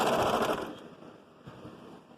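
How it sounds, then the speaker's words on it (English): A serger overlocks a curved sleeve seam on a children's outfit, a quiet rapid mechanical whirr that is strongest at the start and then eases to a softer running hum. "I'm using the serger for this portion, and just gently go over that curve"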